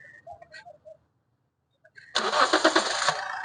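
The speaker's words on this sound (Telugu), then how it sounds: "సింగిల్ చాలతో బండి స్టార్ట్ అవుతుంది సార్." After a few faint beeps and a moment of silence, a 2015 Toyota Etios VXD fires up on a single crank and settles into a steady, fairly loud idle.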